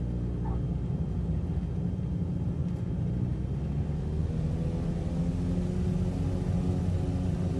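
An airplane engine in Flight Simulator roars steadily during takeoff from a snowy field, a continuous low rumbling drone that stays even and fairly distant throughout.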